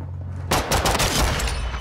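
Loud shots from a shotgun in a shooter video game, a quiet lead-in broken by a sudden blast followed by several close, heavy reports in quick succession.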